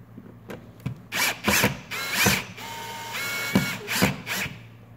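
A screwdriver with a small DeWalt bit drives a screw while a light switch is being replaced, in several short whirring, ratcheting bursts up close, with brief stops between them.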